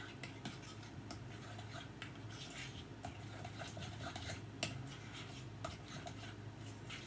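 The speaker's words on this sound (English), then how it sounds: "we're going to stir that together" A spoon stirring dried parsley and salt together in a bowl, giving a steady, soft scraping and light clinking throughout, faint and close, with no talking.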